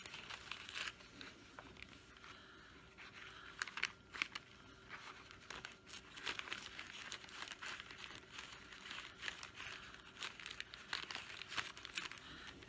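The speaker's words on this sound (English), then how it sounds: "tear a couple pieces off" Rice paper is torn into pieces by hand, soft crinkling and ripping bursts repeating close and faint against a quiet background.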